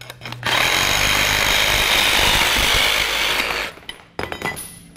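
A Milwaukee M18 FUEL Hackzall cordless reciprocating saw cuts through material with a loud, steady buzzing rasp for about three and a half seconds. It then stops and is followed by a few brief knocks and clatters.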